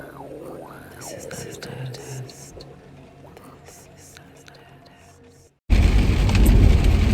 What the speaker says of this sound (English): this beautiful rainy day here